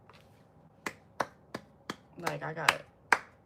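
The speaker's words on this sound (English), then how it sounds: "My claps are really loud" Sharp, loud hand claps ring out one after another in a steady beat of about seven, close and crisp, with a brief burst of talk between them.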